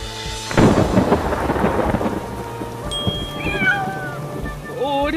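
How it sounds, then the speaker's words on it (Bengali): A cartoon cat meows in rising and falling cries near the end, after a loud rumble of thunder and steady rain fill the first part of the scene. "বিড়ালের ডাক শুনলাম মনে হলো।"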